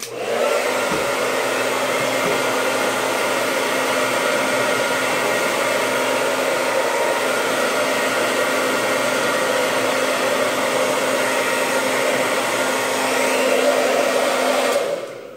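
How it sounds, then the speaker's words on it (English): A hair dryer blows steadily on hair for the whole stretch, a loud continuous whooshing hum with a faint rise near the end and no talking. "let's go through a little blow drying here so you can kind of see how it looks"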